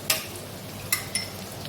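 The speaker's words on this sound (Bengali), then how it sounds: "পেঁয়াজটা ভাজা হয়ে এসছে এবার আমি এর মধ্যে কাঁচা লঙ্কাটা দিয়ে দেবো" Green chillies go into onions already frying in a pan, with a soft continuous sizzle broken by a few sharp utensil clinks and taps.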